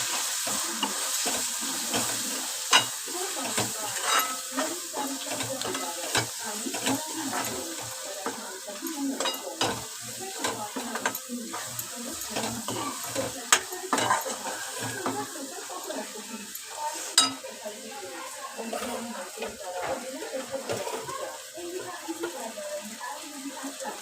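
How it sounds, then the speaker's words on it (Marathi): Turmeric, coriander powder and garam masala fry in hot oil for a cauliflower and potato dish, a long, steady sizzle with frequent scraping and stirring clatter, close and fairly loud. "धना पावडर, गरम मसाला तेलामध्ये फ्राय करून घेऊया"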